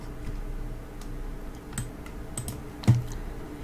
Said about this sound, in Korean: 컨트롤 누르고 엔터